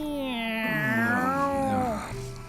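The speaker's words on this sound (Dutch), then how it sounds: "Miauw." One long, wavering meow rises and falls over about two seconds, close and clear, in a Dutch-language children's cartoon.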